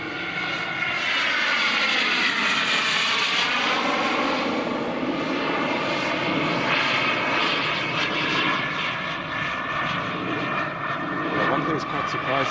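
Feibao 1:7.5 scale RC Dassault Rafale jet with a JetLegend T-12 turbine flying overhead, a sustained loud turbine whine that rises and shifts in pitch as it passes, with people talking underneath.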